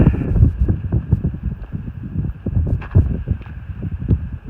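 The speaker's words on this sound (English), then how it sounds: "It's blowing an absolute gale" Strong gale-force wind buffets the microphone in open desert country near Uluru, a loud, continuous roar with gusting surges and rumbling low-end bursts throughout.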